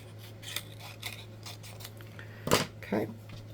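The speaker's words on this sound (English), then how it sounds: "but I'm just going to use my scissors." A few soft snips of scissors cutting paper scraps, followed by two sharper, louder cuts near the end, close by and with quiet pauses between.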